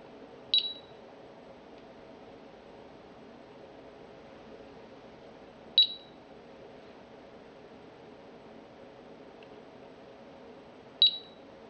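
A Honeywell GasAlert Extreme gas detector powering up, giving three short, sharp electronic chirps spaced about five seconds apart over a faint steady background hiss.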